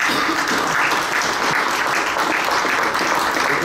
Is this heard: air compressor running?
no